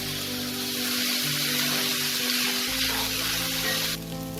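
Soaked Gobindobhog rice frying in oil in a pan for Bengali hilsa fish pulao, giving a steady, loud, close sizzle that hisses continuously over a faint tonal background.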